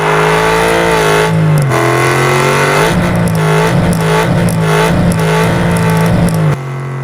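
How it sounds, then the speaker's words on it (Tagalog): A Ford Mustang Shelby GT500 engine in the video game Car Parking Multiplayer hums at idle, then revs up and down repeatedly in short bursts, close and strong, before dropping back to a low idle. "malakas pa yung tunog ng makina."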